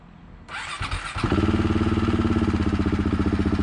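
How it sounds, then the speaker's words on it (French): A KTM 690 Duke R single-cylinder motorcycle being started before an oil change: a brief starter whir cranks, the engine catches and settles into a loud, steady, pulsing idle close by. "je vous la démarre et puis je vais la mettre pour la vidange"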